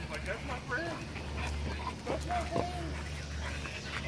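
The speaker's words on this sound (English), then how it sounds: "See, this is the dog." A dog out on a walk whimpers and gives short yips close by, mixed with outdoor background noise and people talking.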